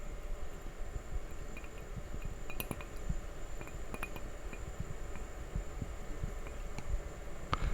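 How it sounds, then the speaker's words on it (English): An ice cube clinks against the inside of a whiskey glass in a close, quiet recording. Sparse, delicate glassy taps ring out over a low hum. "This is the sound of an ice cube in a whiskey glass."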